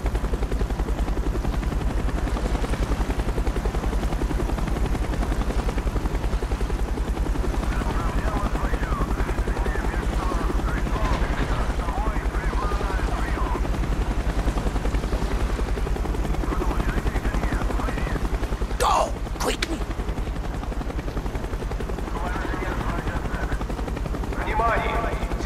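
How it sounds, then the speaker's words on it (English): Continuous low rotor drone of a helicopter swarm overhead in Call of Duty: Black Ops, steady and fairly loud, with scattered bursts of gunfire and mechanical noise layered on top. "Avoid the helicopter swarm."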